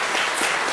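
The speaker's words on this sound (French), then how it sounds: "Ça s'applaudit." Brief burst of studio audience applause on a 1998 Belgian TV quiz show, a dense, even wash of clapping that fills the whole moment.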